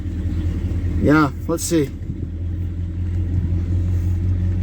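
A 1968 Ford XL engine idling with a new exhaust manifold, a steady low rumble held close throughout while someone speaks briefly over it.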